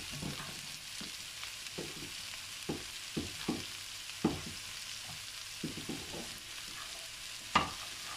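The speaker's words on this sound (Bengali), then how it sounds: "রাইসটা ওই সব কিছুর মধ্যে ফ্রাই করতে।" Chicken, vegetables and rice fry together in oil, a quiet sizzle broken by repeated clanks and scrapes as the mixture is stirred, with no voices.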